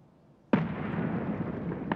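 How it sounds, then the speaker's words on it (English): A sudden loud grenade blast in Escape from Tarkov bursts after a short quiet moment, followed by a sustained rumbling roar. "Missed a nade into my room?"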